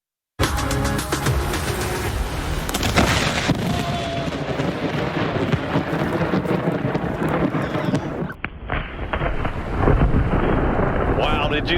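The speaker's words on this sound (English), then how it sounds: "Lightning in Boca Grande, Florida." Close thunder from a lightning strike at Boca Grande, Florida, during Hurricane Sally, starting with a sudden sharp crack and rolling into a long, loud rumble with rain, a second burst near the end.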